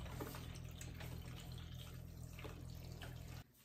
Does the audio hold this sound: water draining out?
yes